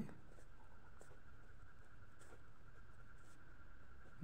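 A pen scratches on paper during a physics lesson, faint close strokes with a few sharper taps, continuous and quiet with no talk.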